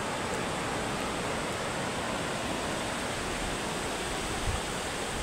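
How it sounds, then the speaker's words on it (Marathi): Sea waves roll onto Velneshwar beach on the Konkan coast at sunset, a continuous broad roar of surf with no clear breaks and no voices. "असा हा आपला वेळणेश्वरचा समुद्र किनारा"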